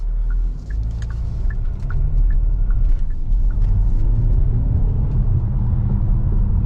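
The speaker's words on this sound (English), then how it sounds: "Let's do a little acceleration in sport mode." A 2024 Kia Sorento facelift accelerating in sport mode at night, heard from inside the cabin as a steady loud low rumble of engine and road noise that builds slightly, with faint clicks of an indicator early on.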